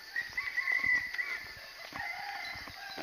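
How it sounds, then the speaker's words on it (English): Chickens clucking and a rooster-like call in the distance in the village of Za He, faint and steady against a quiet rural background. "Those are chickens."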